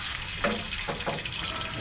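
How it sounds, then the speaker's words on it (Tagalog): Oil sizzles and crackles steadily as tilapia fries in a pan, with a few louder spits and pops breaking through the constant hiss. "Prito ako ng tilapia."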